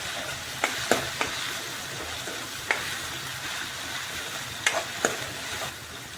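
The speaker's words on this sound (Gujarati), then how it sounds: "સરખી રીતે મિક્સ કરી દઈશું" Vegetables with turmeric and salt being stirred in a hot pan, a soft steady sizzle of frying with several sharp scraping and tapping strokes of a spoon against the pan, close and without talk.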